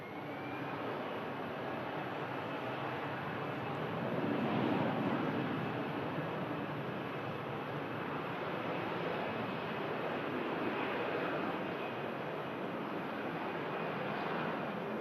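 A TAP Air Portugal Airbus A320, a 13-year-old airframe, lined up on the runway, giving a steady broadband engine roar heard from a distance that swells slightly and then holds without a break.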